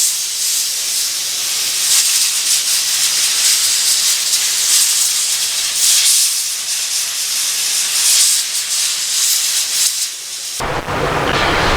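Compressed air blasts steadily to clear debris off the fuel tank of a 1997 Ford F250 7.3 diesel, a loud, continuous hiss lasting several seconds before cutting off abruptly.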